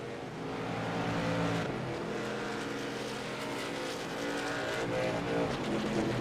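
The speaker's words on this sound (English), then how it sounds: "you can kind of hear that truck struggling under the hood" A damaged race truck engine struggling after a hard hit on the outside wall at EchoPark Speedway, a continuous strained, uneven drone with rising and falling tone, heard over broadcast crowd and track ambience.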